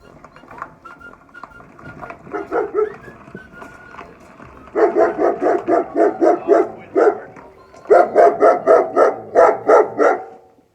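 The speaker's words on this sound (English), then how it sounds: "He's been barking at it since every time I touch it, he barks at it." A dog barks repeatedly nearby in quick bursts, falling silent briefly and then resuming in a steady run of sharp, loud barks.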